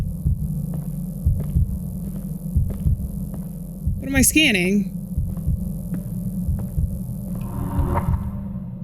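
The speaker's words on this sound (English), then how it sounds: "You can hear the heartbeat." A heartbeat thumps in a LIDAR video game, a steady low double pulse repeating about every half second, while a voice briefly speaks partway through.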